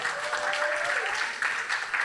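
Audience at a live hip-hop show claps steadily, a dense wash of applause with a few louder surges, alone without talk.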